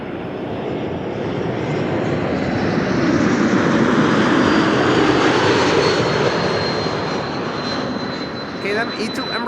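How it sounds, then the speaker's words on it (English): An Embraer 195 E2 jet arrives at Amsterdam Schiphol, its engine roar swelling broad and steady, peaking mid-pass before easing, with a thin whine threaded through and faint voices near the end. "EHAM E2 Embraer 195. Flight 1216, arrival from Stockholm."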